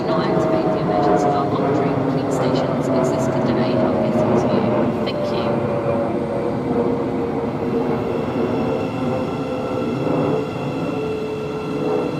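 A Class 700 train pulls into Stevenage station on the East Coast Main Line, a loud, sustained rumble and roar of wheels and motors with squealing tones, while a person talks over it.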